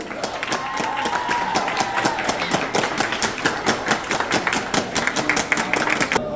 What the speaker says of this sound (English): big round of applause for all the Smurfs.